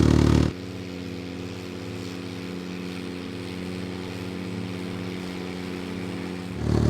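A Ventrac 45RC tractor engine runs steadily at a loud, even drone with a throbbing low hum, and louder bursts at the start and end.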